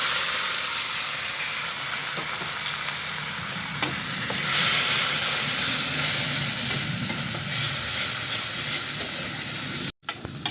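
Chopped onions fry in hot oil, giving a steady close sizzle with occasional stirring clicks and a brief surge of crackling midway, no voices.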